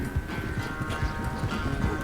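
Horse hooves clopping in Red Dead Redemption 2, a steady rhythmic patter of low thuds at close range, continuous and alone with no voices.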